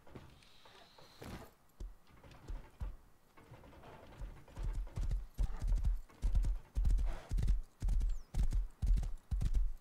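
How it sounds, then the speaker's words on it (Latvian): Horse hooves in the video game Rust start sparse and quiet, then settle into a loud, regular clip-clop beat, with a brief neigh near the start and no talk. "Zirgs ir iesprūdis."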